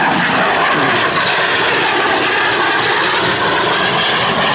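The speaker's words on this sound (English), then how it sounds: "that is the airplane. As he's coming by." A civilian Harrier jet roars past at an air expo, its engine noise loud, broadband and sustained throughout.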